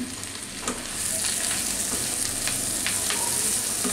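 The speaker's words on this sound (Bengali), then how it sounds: "এখন এর সাথে ধনিয়া পাতাটা দিয়ে একটু মিলাই নিই।" Coriander leaves are stirred into a frying mash of prawn heads and bottle gourd peel, giving a steady close sizzle that grows fuller after the first second, with scraping stir strokes and no talking.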